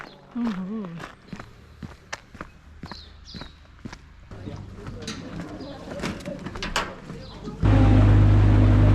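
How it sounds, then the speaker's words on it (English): Footsteps on a walk to the ferry at Manapouri, a run of close, sharp steps with pigeon-like cooing and a brief voice early on, ending in a burst of loud wind or engine noise. "Walking to the ferry."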